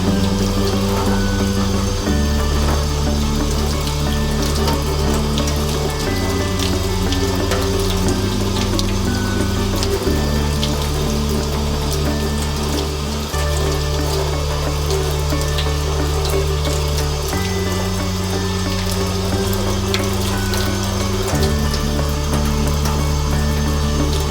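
Tap water runs steadily and loudly while a makeup brush is wetted and washed with conditioner at a sink, a continuous close splashing flow with no voices over it.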